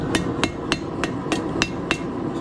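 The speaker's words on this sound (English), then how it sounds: "Now you're using the horn of the anvil." Hot steel is hammered over the horn of an anvil to curl a forged hook, with about eight ringing, evenly paced strikes over a steady background rumble.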